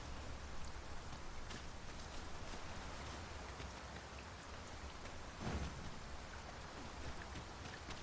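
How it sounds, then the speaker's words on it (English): Rain falls steadily in the video game Dragon's Dogma 2, a soft, continuous hiss of drops on surfaces with occasional louder patters, quiet and uninterrupted with no voices. "The rain will abate soon enough."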